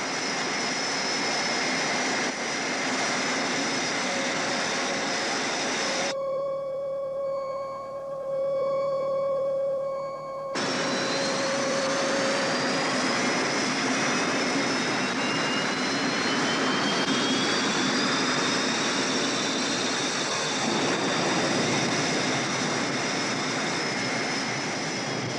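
A spaceship engine roars as the craft departs in the French-dubbed Space: 1999 series episode, a loud, steady rushing drone with whining tones that shifts texture briefly midway and then continues.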